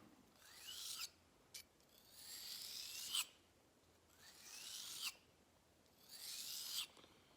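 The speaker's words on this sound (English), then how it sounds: "I like the longer strokes on when I'm sharpening." A round knife drawn across a sharpening stone in four long, even rasping strokes, about a second apiece, close and clear with brief pauses between them.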